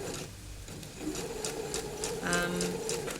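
Sewing machine stitching binding down to the tip of a kitty dress, a moderate steady whirring with faint needle clicks, heard close.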